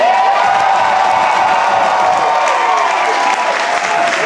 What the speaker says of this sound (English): And make some noise if you want to hear more from Ophira Eisenberg